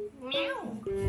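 A person imitates a cat with a drawn-out, rising-and-falling meow, followed by a short second call.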